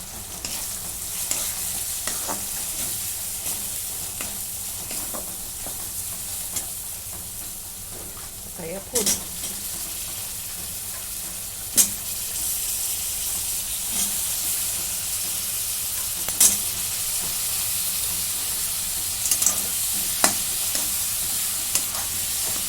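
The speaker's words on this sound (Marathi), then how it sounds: "आता दोन मिनटं मी परतून घेते" Green brinjal sautés in a pan with homemade onion-garlic masala, turmeric, garam masala and chilli powder: a constant low sizzle broken by sharp, irregular spatula scrapes and taps against the pan.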